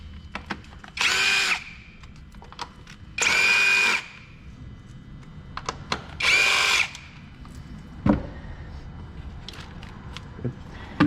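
A power tool removes 10mm bolts from a harness on a Hyundai 2.4 engine during a valve cover gasket job, giving three separate buzzing bursts with clicks and clatter between them.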